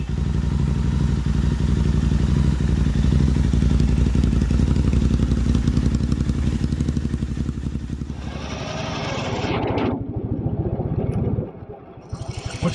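A Royal Enfield Himalayan 452 motorcycle cruises at speed with a loud, steady engine drone and wind rush, then the note drops as it slows, leaving lower idling rumble and clunks near the end.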